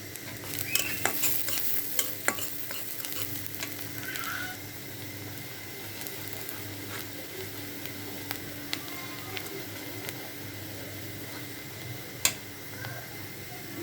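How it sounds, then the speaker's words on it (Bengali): Chopped garlic and onion stir-frying in a pan, a constant soft sizzle broken by sharp ticks and scrapes from a stirring utensil over about fourteen seconds. "এখন আমি এগুলাকে ভালো করে নেড়ে চেড়ে একটু লাল করে নেব।"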